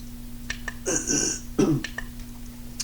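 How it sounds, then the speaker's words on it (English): Someone clears their throat twice in a quiet indoor room, two short rough bursts close to the microphone over a low steady hum, with faint clicks in between. "I have to clear my throat a lot."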